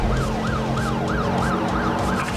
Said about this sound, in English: And that turned on your sirens.